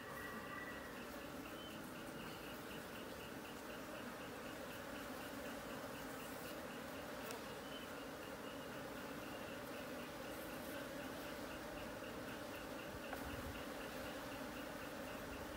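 A steady, dense drone of honeybees buzzing around hives at a bee farm in Bac Giang continues evenly throughout without pause or speech.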